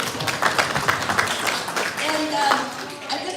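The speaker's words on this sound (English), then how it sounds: "let's give ourselves a big round of applause" An audience at a holiday reception breaks into a short burst of clapping, a dense patter of many hands rising and easing over a few seconds, with a voice speaking over it.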